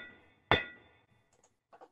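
A single heavy metallic impact on an anvil, designed as a video game sound effect, strikes sharply and rings out briefly, followed by a few faint, small clinks.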